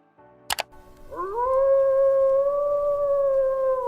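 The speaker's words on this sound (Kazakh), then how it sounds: "қасқыр" A wolf howls in one long, loud, steady note that rises into a sustained tone, after a brief sharp double click.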